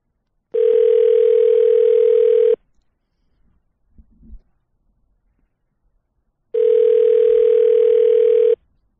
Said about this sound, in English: So this is a cell phone we're calling.